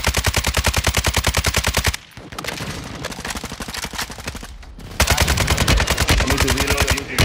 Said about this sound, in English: Ah, I'm being shot at.